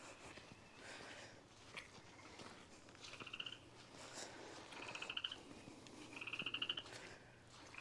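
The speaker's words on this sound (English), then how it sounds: "We got a frog living over in this one here." A frog croaks in three short rattling bursts from inside old mining equipment at Crater of Diamonds State Park, close and fairly faint over quiet outdoor ambience.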